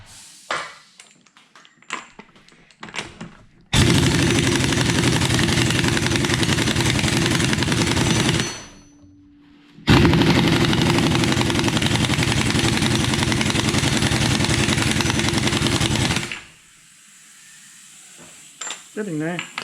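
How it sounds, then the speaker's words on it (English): An air compressor runs in a motorcycle workshop. It makes two long, loud, steady hissing-roaring runs separated by a short quiet gap, each cutting off abruptly, with faint clicks and handling noises around them. "When the air compressor goes off"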